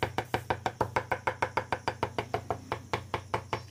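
A knife minces a large batch of about four kilos of mutton by hand, striking in quick, steady, evenly spaced chops, around twenty sharp thwacks on a board, close and loud with no talking.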